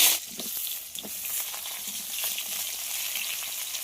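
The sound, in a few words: pointed gourd (potol) frying in hot mustard oil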